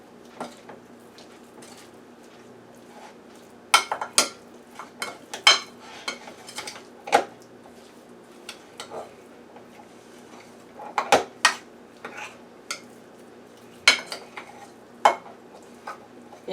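A spoon knocks and scrapes around a pot while mixing turmeric goat stew ingredients, with irregular clinks in bursts over a low background hum, close and fairly quiet.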